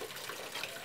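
Water gushes steadily from a homemade PET bottle watering can onto a potted snake cactus, a brief continuous hiss with no talking.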